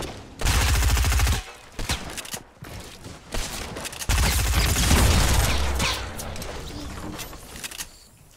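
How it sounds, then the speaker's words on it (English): Rapid, loud pistol fire from a Desert Eagle in a fast-paced battle royale video game, with several bursts of close shots in quick succession and brief gaps between them. "I missed all of my deagle shots"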